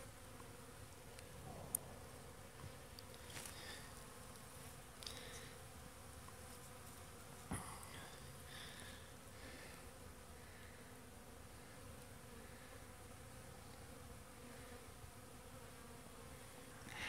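Honeybees buzz in a constant soft drone in winter, many insects humming together at close range, with a few faint clicks and taps.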